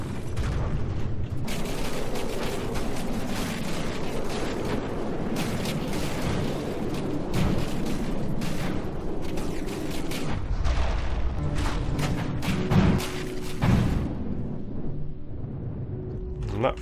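Cannon fire and explosions in the video game From the Depths, where a Demolisher Cannon blows apart the rear of a base, form dense continuous booms and crackling blasts that stay loud throughout.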